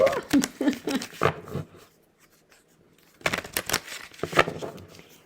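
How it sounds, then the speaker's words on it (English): Tarot cards are riffle shuffled close up in two bursts of quick papery flutters and snaps, separated by a pause of about a second of near silence. "let's ruffle shuffle the cards again and see if it's going to give us a different topic today."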